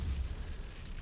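Heavy naval gunfire booms in the World War II naval combat video game War on the Sea, a loud, deep, rumbling blast filling the whole short moment with no speech.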